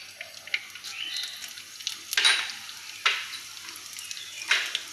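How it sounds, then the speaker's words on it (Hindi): Cumin seeds sizzle in hot ghee while cooking a dum vegetable biryani, a steady crackling fry with a few sharper bursts of spitting as the seeds hit the fat, heard close and without talk. "अब इसमें मैं जीरा डालूँगी, इसे से हम 1/2 चम्मच जीरा डाल देंगे इसमें।"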